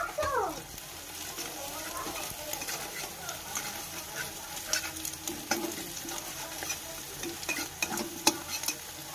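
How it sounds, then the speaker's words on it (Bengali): Beaten egg seasoned with pepper and salt goes into a hot pan and is scrambled. A steady sizzle runs under repeated scraping and stirring strokes, with a brief gurgle as it is poured in. "ফেটানো গোলমরিচের গুঁড়ো আর নুন দেওয়া ডিমটা ঢেলে দেবো।"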